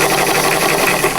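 A sewing machine runs steadily, stitching a flannel shirt sleeve, in one close, continuous whir with no pauses and no talking.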